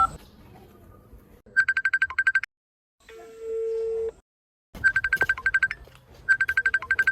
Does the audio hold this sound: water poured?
no